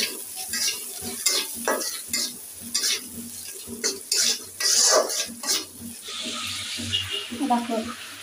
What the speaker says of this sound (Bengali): দেখো পেঁয়াজ ভাজি